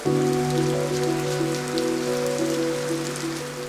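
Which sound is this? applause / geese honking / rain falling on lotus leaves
rain falling on lotus leaves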